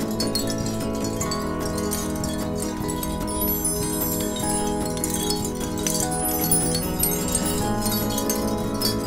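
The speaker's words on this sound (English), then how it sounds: "So I've got these chimes." Chimes in an art installation ring continuously, with layered metallic tones and sustained bell-like overtones, plus occasional bright clinks over a steady hum.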